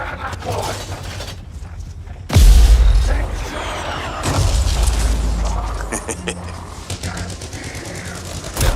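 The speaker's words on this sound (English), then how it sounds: "Time to use that mortar." Mortar rounds firing and exploding in a video game: a heavy booming blast followed by another deep impact and rumbling debris, loud and close, with game noise and mechanical clatter around it.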